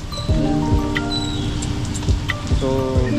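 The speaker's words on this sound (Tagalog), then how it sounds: "So umuulan na nga ngayon" Steady rain falls outdoors during a food-delivery rider's shift in the Philippines, a continuous hiss mixed with passing traffic and tonal vehicle sounds throughout.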